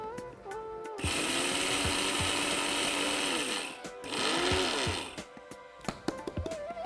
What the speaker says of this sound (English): need to grind this more.